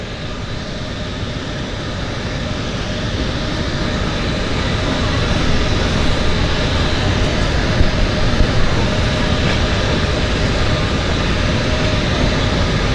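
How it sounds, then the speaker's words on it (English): A floatplane approaches to land on harbour water in downtown Vancouver, its propeller engine a loud, steady drone that slowly swells as it nears, with no speech over it. "I'll try to film the landing once this airplane gets just a little bit closer to the water."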